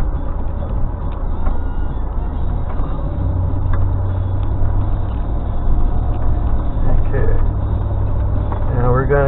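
Steady loud engine rumble of an off-road vehicle climbing a hill in first gear, driven by a beginner under throttle, continuous and close with voices talking over it.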